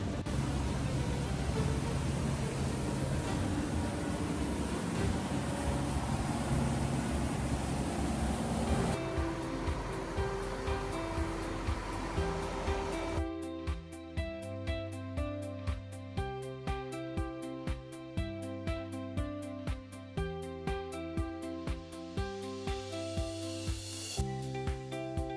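A boat speeds across a lake on the Trent Severn Waterway, its loud rushing wind and water noise filling the first half before giving way to rhythmic music.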